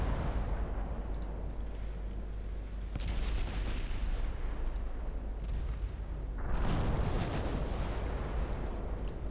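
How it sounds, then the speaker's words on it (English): Torpedoes launch from warships in Ultimate Admiral Dreadnoughts, a few dull booming bursts rising over a constant rumbling battle din, moderately loud with no voices. "Let's have the torpedoes launch, please."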